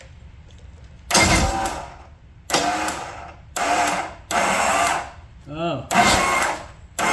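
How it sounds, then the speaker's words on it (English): A Johnson GT 200 outboard with a stripped starter gear cranks in five loud, harsh bursts of about a second each, separated by short quiet gaps, with a brief voice between the bursts. "So it's a stripped gear inside of the starter, I think."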